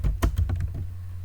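Computer keyboard keys are tapped in a short run of four or five quick, close clicks while writing a release note, then a low steady hum continues alone.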